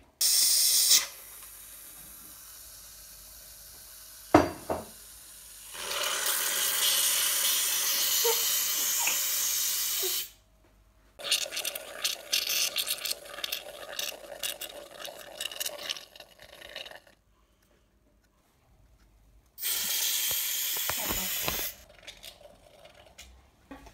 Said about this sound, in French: La première étape, il faut mettre la chantilly.